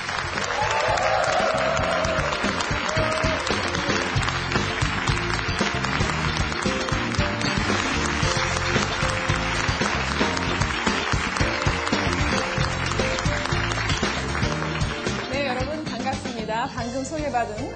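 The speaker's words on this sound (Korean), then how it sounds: "여러분 뜨거운 박수로 맞이해 주십시오." An audience at a corporate lecture claps loudly and continuously to welcome the FedEx Korea chief on stage, a dense, sustained round of applause that holds steady and then begins to thin out near the end.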